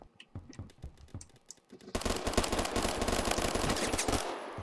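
Rapid automatic gunfire in the video game Phantom Forces bursts out loud and sustained after a couple of softer, scattered shots, a dense continuous rattle lasting a few seconds.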